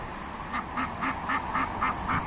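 Ducks newly arrived alongside broiler chicks quack in a steady series of about seven nasal calls, evenly spaced and fairly close, over a constant low background hum.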